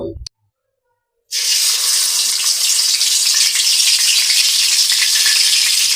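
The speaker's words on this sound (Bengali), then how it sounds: "এই তেলেই আমি মাথাটা ভেজে নেব" A rohu fish head frying in hot oil in a pan, a loud, dense, steady crackling sizzle that starts abruptly after a brief silence and continues close by without any talking.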